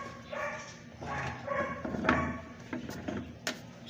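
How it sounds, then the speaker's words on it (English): A puppy whimpers and yips indoors in an apartment, a string of high, whiny cries and short barks coming in uneven bursts, fairly close and moderately loud. "I think the puppy is upset"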